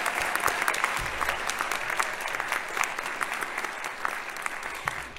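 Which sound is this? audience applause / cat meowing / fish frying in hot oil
audience applause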